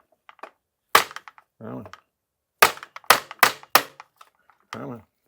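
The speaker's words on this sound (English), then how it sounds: "we're gonna need a mallet, soft side mallet, and just tap out the pedal, basically" A soft-faced mallet taps a seized pedal out of a bicycle crank arm: a single sharp hit, then a quick burst of four close strikes, with brief talk between them.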